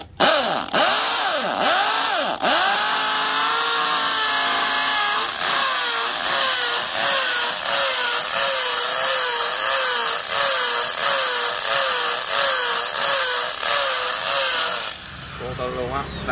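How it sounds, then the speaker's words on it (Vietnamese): A Dekton DK-710B hammer drill bores into blue stone, its loud whining motor rising and falling through repeated bursts of grinding hammering, with a voice talking over it. "Rồi thay mũi khoan tôm và chuyển qua chức năng khoan búa nha anh chị. Khoan nguyên cái viên đá xanh này luôn nè."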